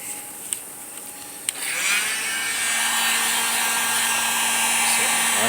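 A heat gun starts up after a couple of soft clicks and blows with a steady, loud whirring hiss while it heats a steering wheel wrap outdoors, with no talking.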